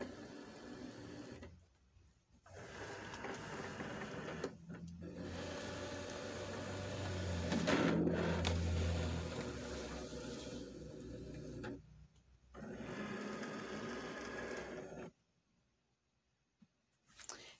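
A Cricut cutting machine loading medium cardstock, a faint mechanical whirring and rolling that starts and stops several times with quiet pauses between, rising briefly to a louder motor rumble in the middle.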